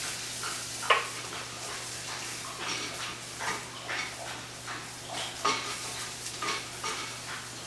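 Shallots, fresh rosemary and pepper being stirred in a skillet, with soft scraping and clinking of a utensil against the pan in irregular strokes over a faint sizzle, close by.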